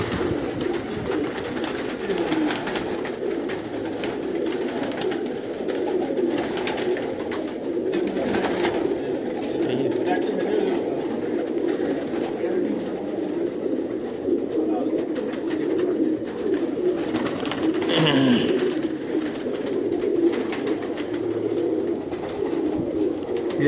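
Red-headed Indian golden pigeons coo in steady low murmurs at close range, a continuous soft throaty cooing with faint scattered rustles and no talk.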